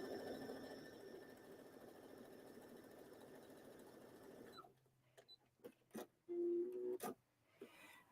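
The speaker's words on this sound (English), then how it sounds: "we're going to go ahead and stitch this and just guide it through" A sewing machine runs steadily while stitching a seam, a dense continuous whir for about four and a half seconds, then stops, leaving a few faint clicks and handling noises.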